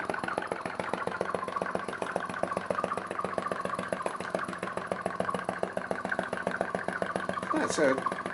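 An old atmospheric vacuum engine chugs steadily at a slow, even rhythm of about 400 RPM, each beat giving a distinct valve pop before exhaust, running continuously and fairly close.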